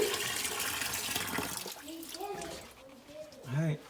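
Water poured by hand into a basement sump pit splashes and gurgles loudly for about a second and a half, then fades into softer trickles and a few hollow bubbling glugs.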